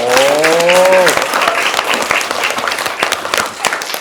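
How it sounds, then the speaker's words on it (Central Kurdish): A crowd applauds with dense, continuous clapping, loud and close at first, as a rising tonal whine fades out early on. "ئەگەر پرۆگرامەکە و بەرنامەکەمان زۆر خۆش بێت چۆن چەپڵە لێ دەدەن؟"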